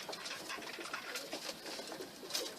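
Pigeons cooing in a loft, with soft repeated coos and some fluttery rustling, close and moderately faint, no talking.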